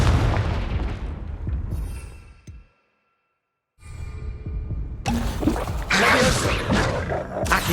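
A Confringo fire spell blasts in Hogwarts Legacy, loud booming bursts with whooshing crackle filling the scene before a brief silence, then a dense, bright explosive barrage.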